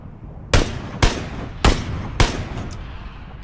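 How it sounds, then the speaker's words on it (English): Gunfire exchange at a building: four loud, sharp single shots spaced about half a second apart, each leaving a short ringing tail, then a fifth shot beginning at the very end, with no voices. "Okay, they're shooting back."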